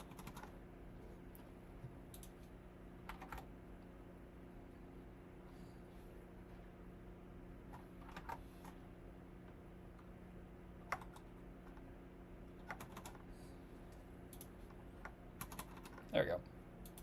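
Computer keyboard typing comes in sparse, light clicks and short bursts over a steady hum of background noise, fairly faint and close, with no voices.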